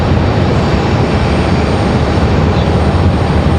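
Delta flight 508, an airliner arriving at Raleigh-Durham from Los Angeles, gives a loud, dense, rumbling roar heavy in the low end, steady and near for the whole stretch without talk.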